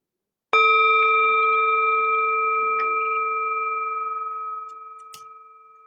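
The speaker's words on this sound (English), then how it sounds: "Listen, listen. The sound of the bell returns us to our true home." A meditation bell is struck once, ringing out clear and loud, then sustaining a long, steady resonant tone that slowly fades over several seconds with no talk.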